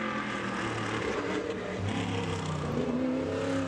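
Modified race car roaring around Bowman Gray Stadium on a qualifying lap, a loud continuous engine drone with shifting pitch as it circles the short track, no voices over it.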